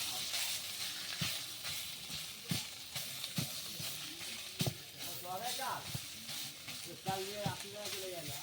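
Boiled potatoes frying and being stirred in a pan for vegetarian potato chops, with a steady sizzle broken by repeated knocks and scrapes of the spoon, recorded close and moderately quiet.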